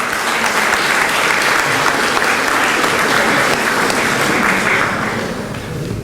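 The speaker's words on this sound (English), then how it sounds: "So give a round of applause for yourself." A seated audience at a talk on God gives a loud, dense round of applause that holds steady for several seconds before tapering off at the end.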